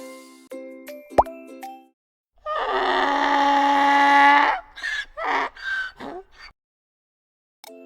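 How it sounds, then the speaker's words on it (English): A donkey brays loudly and close, a long harsh sustained call breaking into several rhythmic wheezing hee-haw bursts, after a short chiming musical jingle; no one speaks. "it's a donkey. Donkey's sound name is bray."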